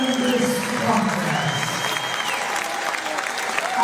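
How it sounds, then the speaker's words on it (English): A large crowd applauds and cheers after a twelve-round professional boxing bout, dense sustained clapping filling the arena with loud, steady crowd noise from start to finish. "we please have a big round of applause for both of our fighters after an absolutely tremendous contest."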